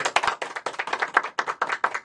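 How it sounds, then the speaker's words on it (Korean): A small audience claps at the opening of an anniversary special panel discussion on Hwaseong city's local economy, with distinct close claps forming a steady, dense rhythm throughout. "박수 한번 하고 시작을 할까요?"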